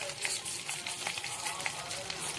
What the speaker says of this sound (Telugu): శనగపప్పు, మినపప్పు, ఆవాలు, జీలకర్ర కొంచెం లైట్ బ్రౌన్ కలర్ వచ్చే వరకు ఇలా కలిపెడుతూ ఉందాము.